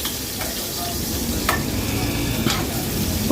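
Onion and ginger sizzle in a hot pan for chicken tinola, a continuous near hiss broken by a few sharp spatula scrapes and stirs, fairly loud with no speech.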